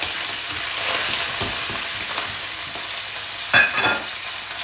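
Seitan sizzles steadily in a hot frying pan, with occasional scraping and stirring sounds close by and no voices.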